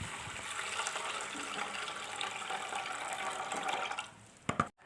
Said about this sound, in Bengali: চালটা না আমি একটু জলেই ভিজিয়ে রাখি, আর তারপরেই ভালোভাবে পরিষ্কার করে ধুয়ে নিই